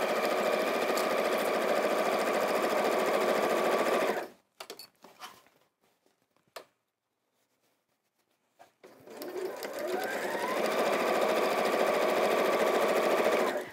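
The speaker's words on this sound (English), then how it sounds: "we're just allowing this to sew around and through all three layers to bring those together neatly" Sewing machine stitching a quilted caddy bag through three layers at a quarter-inch seam: loud steady mechanical whirring for about four seconds, a pause with a few clicks, then the motor runs up again and stitches steadily to the end.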